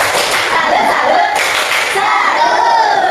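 A classroom group claps a salute for student presenters, a loud, dense, continuous patter of hands filling the room with a murmur of voices.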